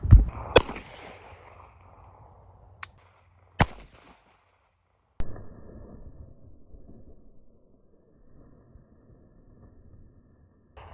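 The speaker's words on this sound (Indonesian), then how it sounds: "yang kiri ini kita mau tembak pakai Makarov" A Makarov 9mm pistol fires at a 2-liter bottle outdoors, sharp loud cracks at the start, then a few more single shots spaced seconds apart, each trailing off into quiet rustling.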